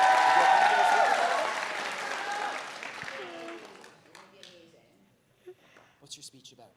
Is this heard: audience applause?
yes